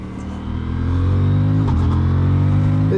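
Aprilia Tuono 457 A2 motorcycle ridden in Austria, its engine droning loud and close, rising steadily as it accelerates, with a brief gear shift partway through.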